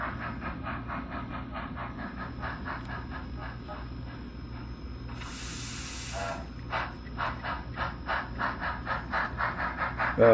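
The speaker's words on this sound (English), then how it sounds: "A nice full bass chuff." A brass HO-scale (HOn3) K-36 model steam locomotive with a Tsunami sound decoder and high-bass speaker gives steady, rapid rhythmic chuffs over a constant hiss, with a brief burst of steam release midway and the chuffs growing louder at the end.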